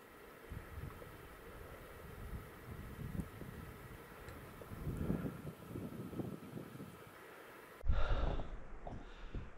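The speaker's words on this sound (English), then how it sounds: "It is very windy and -3 this morning." Strong wind buffets the microphone outdoors by a remote cabin on a freezing morning at minus three degrees, a steady gusty roar throughout with a louder burst near the end.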